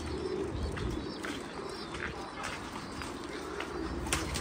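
Pigeons cooing at a loft, soft low coos repeating among chirps over a steady outdoor background, fairly faint.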